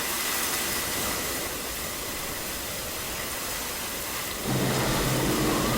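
Howling storm wind driving heavy snow at hurricane force, a dense continuous roar that stays loud throughout and grows slightly harsher near the end.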